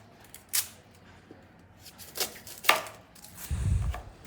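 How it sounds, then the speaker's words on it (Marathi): An onion is chopped with a knife on a board, giving a few sparse, close taps spread out over a quiet kitchen background with no voices. "आता आपण हा कांदा कट करून घेऊयात."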